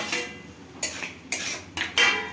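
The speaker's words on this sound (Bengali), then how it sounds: "তা এখন আমি এই সময় যেটা বেগুন ভেজে রেখেছিলাম, এই বেগুনটাকে দিয়ে দিচ্ছি।" Fried eggplant pieces tipped into a pan of cooking greens, with a few sharp clatters and scrapes of a utensil against the pan spaced through the moment, fairly close and alone.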